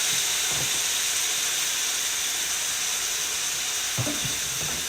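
Shakshuka's tomato mixture sizzles loudly and steadily in a pan, with a few soft scraping stirs breaking through the constant hiss.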